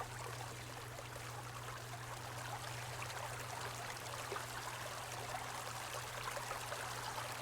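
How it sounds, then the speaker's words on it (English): Steady rushing, trickling water in the game Return To Nangrim, an even, continuous flow with a low hum running underneath and no talk. "I mean, good water effects."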